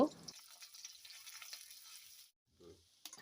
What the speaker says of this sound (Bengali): তেল গরম হলে পেঁয়াজ, রসুন, কাঁচামরিচ দিব, দিয়ে হালকা করে ভেজে নেব